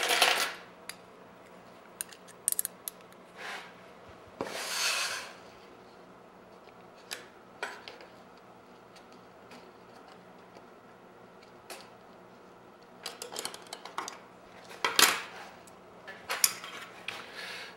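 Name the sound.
Collins spring clamps handled, joining mitered wood pieces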